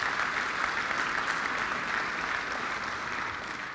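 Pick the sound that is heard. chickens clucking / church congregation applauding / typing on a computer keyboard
church congregation applauding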